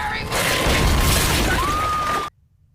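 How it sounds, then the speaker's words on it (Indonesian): A swollen body bursting in a dramatized scene: a loud, sustained blast of crackling, noisy roar with a rising whistle-like tone, ending abruptly into near silence. "Lalu kemudian tubuhnya pun membesar dan akan meledak."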